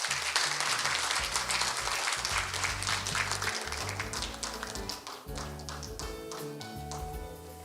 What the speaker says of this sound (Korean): 큰 박수로 자리로 모시겠습니다.